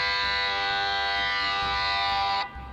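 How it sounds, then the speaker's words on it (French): A blasting warning siren before an explosive detonation sounds as a steady, loud, harmonically rich wail that holds for over two seconds and then cuts off abruptly, leaving a low background hum. "Alors, deuxième sirène de tir."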